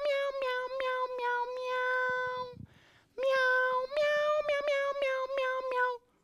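A cat meows repeatedly at close range, a run of loud, drawn-out harmonic calls followed by a short pause and then another burst of meows.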